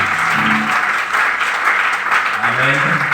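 Loud, dense applause from a church congregation, steady clapping filling the whole stretch, with voices and some low musical tones underneath.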